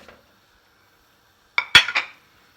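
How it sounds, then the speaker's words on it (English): A faint scrape is followed by a short burst of metallic clatter as fried cauliflower is tossed and mixed with other ingredients in a pan. There are two or three quick clinks, and no talk. "And thus toss, mix all ingredients together"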